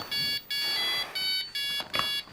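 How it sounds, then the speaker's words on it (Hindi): A mobile phone rings indoors with a repeated electronic beeping tone in short bursts separated by brief gaps, fairly quiet, with no talking. "मेरा फोन आया।"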